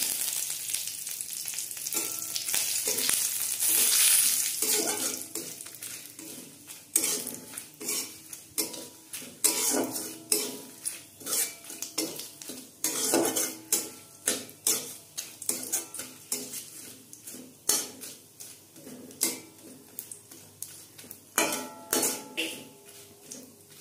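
Curry leaves and asafoetida crackling in hot oil as a tempering for Bengali chana dal, a loud sizzle at first giving way to repeated rhythmic scrapes and clinks of a spatula against the pan, close and without voices.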